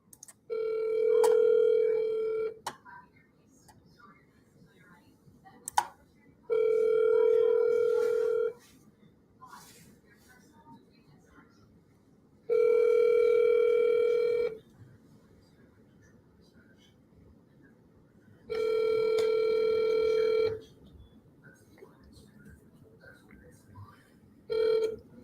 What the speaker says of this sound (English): I want to see if she'll answer my actual phone call.